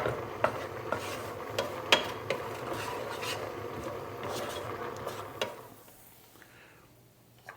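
Onions seasoned with salt and freshly cracked pepper are stirred in a pan, with a spoon scraping and clicking against the metal several times over a soft sizzle that fades near the end.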